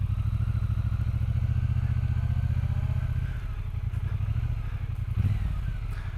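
A Triumph T120 Black Goldline motorcycle idles and then pulls away, its engine a loud, steady close-up rumble with mechanical clatter that shifts as it moves off, with no talking.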